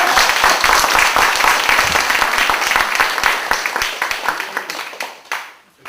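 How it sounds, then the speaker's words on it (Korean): Audience applause at a poetry-and-music lecture event, loud dense clapping from a crowd that gradually thins and fades out over several seconds into near silence. "큰 박수 한번 부탁드립니다."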